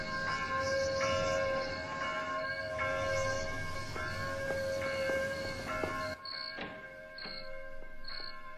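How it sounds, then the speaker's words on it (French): A church bell rings by itself in a deserted small town, its sustained, evenly spaced tones droning on for about six seconds before a few brighter, more separated strikes ring out alone. "La cloche sonne toute seule."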